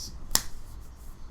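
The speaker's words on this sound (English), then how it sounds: "hear me clap a few times. I'm trying to catch a mosquito" A single sharp hand clap, made outdoors in Malaysia to swat a mosquito, cracks once, brief and fairly close, against a quiet background.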